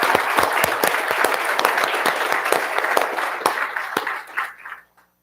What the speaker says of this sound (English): let's please give a warm round of applause for Donald Clarkson